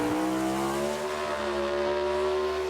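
A Pro Stock drag racing car at the 1996 NHRA U.S. Nationals in Indianapolis, backing up in the far lane, gives a loud, steady engine drone with strong harmonic tones that holds unbroken from start to finish, with no voices.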